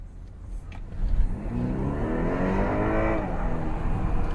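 A 300-horsepower BMW accelerating hard, its engine note rising in a steady sweep from a low rumble to a strained, higher growl, loud and close with no talk over it.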